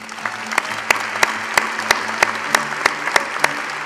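Sustained applause from a graduation ceremony audience for engineering graduates of the aeronautics department, a dense steady clatter of many hands with a few sharper nearby claps standing out.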